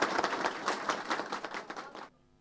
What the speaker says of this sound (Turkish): Eski Başkan Yılmaz alkışlarla uğurlandı.